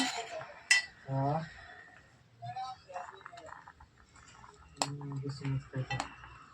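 A spoon mashes overnight-soaked, softened apricots in a dish for a sweet, giving scattered clinks and soft scraping, with a few sharper taps against the dish between quieter stretches.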